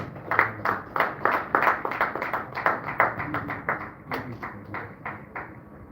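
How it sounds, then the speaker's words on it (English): A round of applause at a business luncheon welcoming Mr. Akinola, with sparse, uneven claps that sound like a modest group clapping nearby, fairly steady for about six seconds before thinning out. "let's also welcome Mr. Akinola with a round of applause, please"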